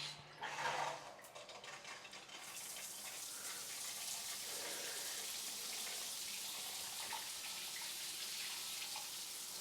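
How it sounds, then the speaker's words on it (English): Water bursts on through a 12-inch rain shower head on an overhead arm: a brief clunk and splutter, then a steady broad hiss of spray pattering down, continuous and fairly close. "let's run some water through it and test for leaks on the rain shower head connection"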